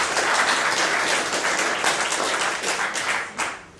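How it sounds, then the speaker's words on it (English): Audience applause at a meeting, a dense steady wash of many hands clapping throughout, thinning slightly toward the end. "Let's give her a round of applause."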